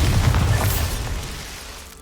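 Bombarda spell explosion in Hogwarts Legacy, a single deep, heavy boom with a rumbling low end that starts loud and slowly fades over about two seconds.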